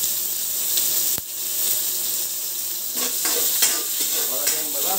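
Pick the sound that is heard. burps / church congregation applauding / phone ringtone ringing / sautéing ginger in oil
sautéing ginger in oil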